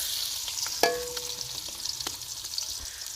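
Onions sizzle and hiss in hot desi ghee, a steady crackling fry broken by a single sharp metallic clink of a utensil and a few light stirring scrapes.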